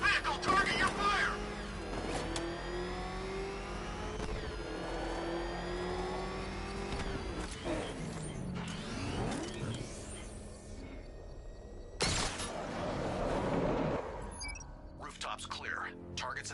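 The Batmobile's engine in Batman Arkham Knight revs and whines through rising and falling pitches, loud and continuous, with in-game voices talking over it.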